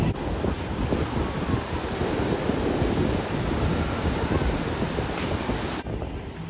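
Sea waves wash onto Puri beach in a broad, steady roar, mixed with heavy wind buffeting the microphone throughout.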